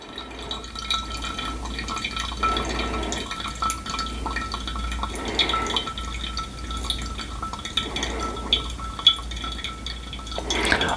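Coffee drips steadily through a V60 pour-over filter from a Nomad Coffee Peru brew, a soft continuous trickle of liquid with faint splashes and occasional clinks against glass, close and fairly quiet.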